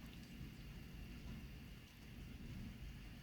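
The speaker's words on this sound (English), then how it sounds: "You can still hear the rain." Steady, faint rain hisses continuously with a low rumbling undertone of distant thunder, no voices.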